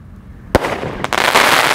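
Sivakasi firecrackers burst loudly at close range in a rapid string of sharp bangs and crackles, with a fizzing shower of pops continuing after each blast.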